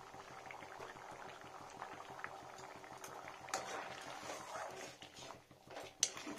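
Mung dal simmers in a pot with cumin and groundnut paste, a faint steady bubbling and popping close by, with quiet clinks and a few louder knocks near the end.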